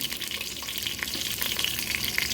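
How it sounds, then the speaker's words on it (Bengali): Chopped onion, green chili, bay leaf, cardamom, cloves and garam masala fry in white oil, giving a steady, close, crackling sizzle with small pops throughout and no talk. "মশলাটা একটু ভেজে নিব"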